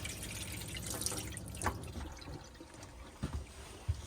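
Hot water runs from a tap in an Autotrail V-Line 363SE motorhome, a steady close trickle and splash with a few louder drips and gurgles over about four seconds, with no talking.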